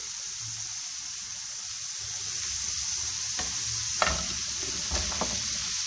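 Chicken wings frying in a pan over a high flame for Korean-style wings, a steady hiss with a few sharper scrapes and knocks of stirring toward the end.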